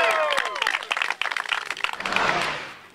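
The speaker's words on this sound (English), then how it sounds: "Let's give him a round of applause" An audience claps for a round of applause, with bright overlapping claps that fade toward the end while a few voices sound beneath them.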